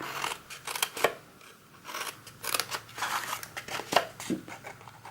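Sharp scissors snipping through paper card for a heart-shaped box, a run of quick crisp cuts scattered irregularly, close and fairly quiet, with no voice over them.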